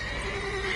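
A horse whinnies in The Witcher 3: Wild Hunt with a sustained, bright neigh, loud and close, with a synthetic, game-like quality and no talking.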